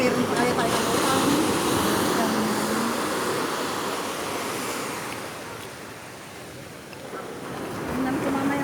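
Strong ocean waves at Sabang, a loud, continuous roar of surf with a rising and falling wash and heavy wind buffeting the microphone.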